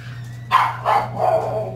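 A dog barks three times in quick succession, loud and close, over a steady low hum indoors.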